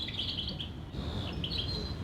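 Birds calling inside the Discovery Cove aviary in Florida, a series of high, thin chirps and tweets coming in short bursts over a low background murmur, fairly faint and with no speech.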